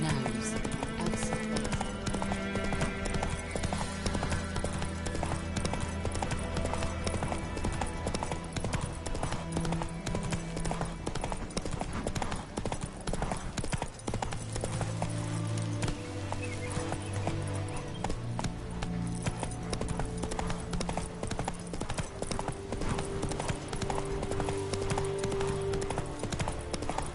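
Roach the horse galloping in The Witcher 3, hoofbeats running steadily across a long stretch beneath prominent game music, with occasional snorts and brief speech.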